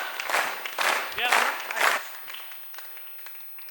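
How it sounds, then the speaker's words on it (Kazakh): An audience applauds at a jubilee event in a grand hall, with several loud surges of clapping that fade to scattered claps, and voices mixed in. "Шапалақ!"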